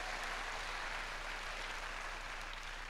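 Steady, dense applause from a church congregation during a Filipino sermon, a continuous wash of many hands clapping at an even level with no pauses across the span.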